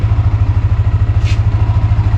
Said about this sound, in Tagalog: Tahimik ang makina guys.